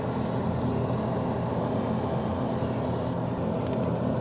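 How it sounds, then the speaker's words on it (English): Aerosol can of brake parts cleaner sprays in a steady, continuous hiss lasting several seconds, close and fairly loud, with a brief change in tone near the end; done while replacing fuel injectors on a 1998-2011 Ford Ranger 4.0L V6. "Let's spray this down."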